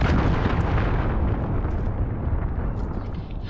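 A missile strike explosion in Call of Duty: Modern Warfare, a loud, rumbling blast that roars at full strength, then slowly decays, heard alone with no talking.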